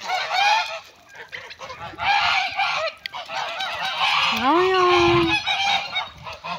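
Geese, ducks and turkeys honk and cackle in a noisy farmyard flock, several calls overlapping and rising and falling in bursts, fairly close.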